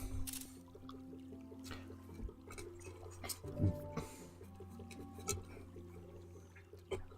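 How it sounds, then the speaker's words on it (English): Water splashes and trickles in a video game as a nymph steps out of a pool, with soft intermittent dripping and sloshing under game music. "The nymph steps out of the water."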